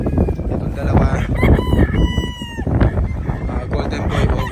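A gamefowl rooster on a farm crows loudly and close by, its long drawn-out call rising and falling over other fowl clucking and a voice talking in the background.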